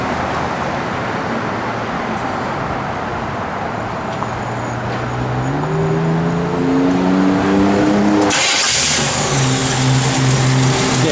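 A 1967 Chevrolet Camaro RS/SS convertible's 350 V8 engine idles with a deep, loud rumble, then its pitch rises as it revs up, and a sharp shift in tone follows partway through.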